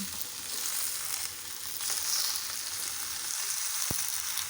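Peas and macaroni frying in a pan give a soft, continuous sizzle at low level, with a single sharp tap near the end and no talking.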